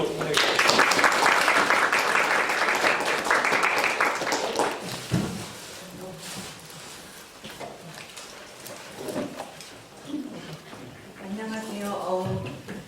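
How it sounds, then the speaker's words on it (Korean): An audience at a 2019 KAIST graduate department information session applauds to welcome a professor, a dense burst of clapping for about five seconds that fades, followed by a person speaking. "박수로 환영해 주시겠습니다."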